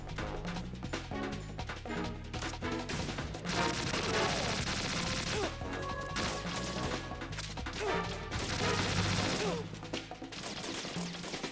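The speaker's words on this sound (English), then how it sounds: "These people have shotguns." Shotgun fire in the Metal Gear Solid 2 video game: repeated loud blasts in irregular bursts with crashing impacts, dense and close, under a busy game soundscape.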